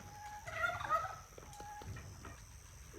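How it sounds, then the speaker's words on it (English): A chicken clucks and squawks in a short flurry near the start, then quieter scattered clucks follow over steady background hum on a horse farm. "Scare the chicken."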